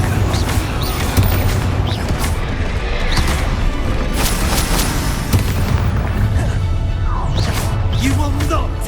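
Confringo fire spells burst in Hogwarts Legacy combat, a loud, continuous wash of booming explosions and crashes layered over dense battle noise, with scattered sharp impacts and voices shouting faintly in the mix.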